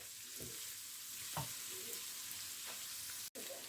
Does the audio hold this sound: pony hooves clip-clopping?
no